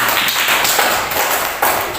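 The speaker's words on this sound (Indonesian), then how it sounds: "Tepuk tangan untuk kelompok 4" Classroom applause for a student group after a presentation, dense clapping from many hands held steady and fairly loud, with a couple of brief surges.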